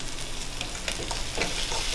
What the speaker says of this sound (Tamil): இந்த வெங்காயத்தை 2 நிமிஷம் நல்லா வதக்கிக்கலாங்க